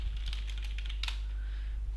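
Typing on a computer keyboard, a quick run of light clicking keystrokes close by over a low steady hum, no talk.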